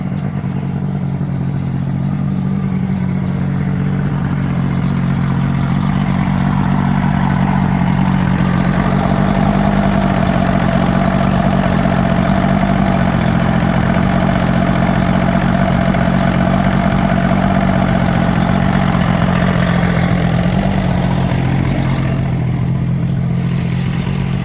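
A 150 hp Johnson outboard on a 1973 Grady White 191 Sportsman idles steadily in a low, continuous drone, close and loud, with no talk over it.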